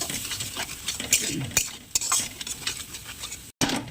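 Spice paste of ginger and cumin with salt, turmeric and milk mixed in a pan as a filling for stuffed pointed gourd, brisk close spoon scraping and clinks over a light sizzle, ending abruptly.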